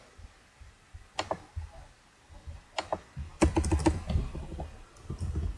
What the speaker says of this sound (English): let's just type it down here